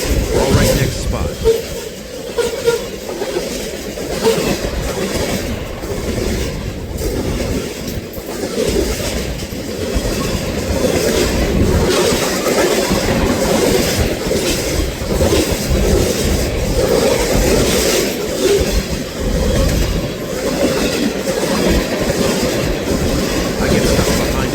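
A train rolls past on a railway near Birmingham, a loud continuous rumble of rail cars with rhythmic wheel clatter and occasional squeal sustained throughout.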